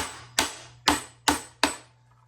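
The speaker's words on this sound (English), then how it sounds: "Then I'm going to smack it with the hammer." Four sharp metallic hammer blows strike a tool to knock a part loose while installing a Badger garbage disposal, evenly spaced, loud and close, each ringing briefly before decaying.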